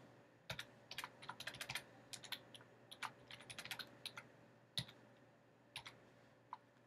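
Typing code on a computer keyboard in a quiet room, irregular bursts of light clicking keystrokes with short pauses between flurries, close and fairly soft with no talking.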